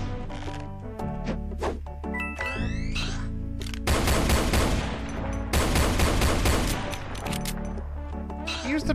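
Shotgun blasts and other weapon fire ring out in the Doom mod The Golden Souls 2, loud and dense, with rapid bursts of shots layered over game music tones and effects.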